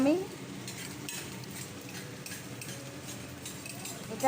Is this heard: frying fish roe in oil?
yes